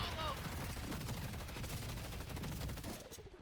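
Bullet Dance ultimate in the video game Deadlock, a dense, loud rattle of rapid gunfire that fills the moment continuously before tapering off at the end.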